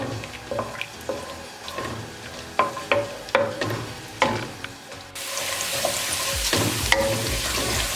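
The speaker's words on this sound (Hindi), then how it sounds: "अब इसको 1 से 2 मिनट के लिए फ्राई करेंगे।" Chopped garlic sizzles in hot oil, with spoon scrapes and stirring clatter, then a louder steady hiss as the pan heats up.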